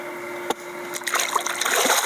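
Fish released back into a lake, giving a sharp knock followed by light splashing and trickling water close by, small and irregular rather than one big splash.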